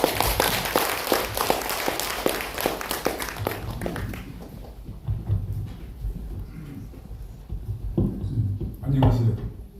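Audience applause at a literary writing seminar welcoming a speaker, a brisk burst of clapping that fades over several seconds into room noise and murmuring.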